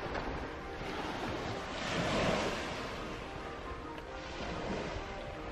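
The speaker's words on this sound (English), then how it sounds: "the sound of the sea" Sea waves wash at the foot of red cliffs on a warm day, a soft continuous surf that swells and fades gently, with some wind noise and no voices.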